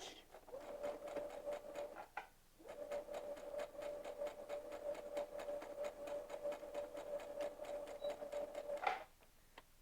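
A sewing machine back stitching, a fast even run of needle clatter close by, briefly pausing once, then running on before stopping.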